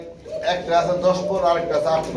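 Pigeons, including black Huma pigeons, coo at a busy pigeon market in a low, steady murmur beneath close, continuous talk between buyers and sellers.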